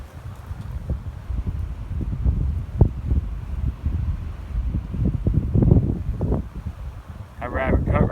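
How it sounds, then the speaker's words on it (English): Gusty wind outdoors on a rabbit hunt buffets the microphone in uneven rumbling bursts, with brief rustles and a short crackle near the end. "windy out here today."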